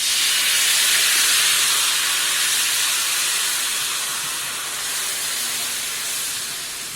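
Jowar flour batter sizzling on a hot oiled iron griddle, a loud, even hiss that fades slightly as it settles, with no voices.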